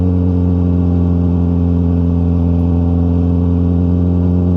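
A Yamaha R6 sport motorcycle with a loud aftermarket exhaust idles and revs steadily, a deep, continuous engine drone held close and loud throughout with no voices.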